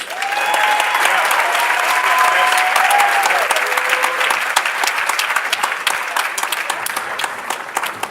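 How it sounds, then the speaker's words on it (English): An audience at a school district career and technical education awards ceremony applauds, a loud, sustained crowd clapping that fades slightly toward the end, with a faint sustained tone audible early on. "a round of applause, please."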